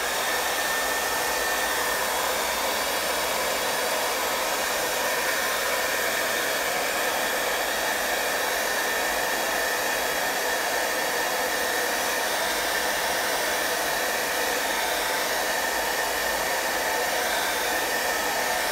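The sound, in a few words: hair dryer drying acrylic paint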